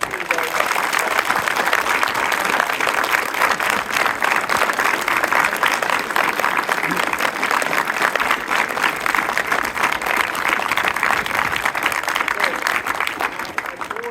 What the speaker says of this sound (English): give your adults the biggest possible round of applause